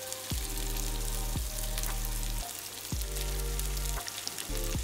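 White onions hit a pan of frying garlic and ginger, giving a steady, close sizzle and crackle throughout, with a recurring tonal hum underneath.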